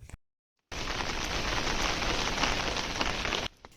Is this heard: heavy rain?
yes